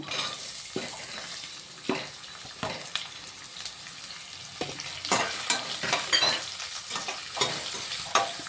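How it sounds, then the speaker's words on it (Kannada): Onions fry in a pan for mushroom Ambur biryani, a steady sizzle broken by repeated scraping strokes of a spoon stirring them, growing busier toward the end; close and moderately loud, no talk. "ಆನಿಯನ್ನು ಸ್ವಲ್ಪ ಚೆನ್ನಾಗಿ ಫ್ರೈ ಮಾಡ್ಕೊಬೇಕು."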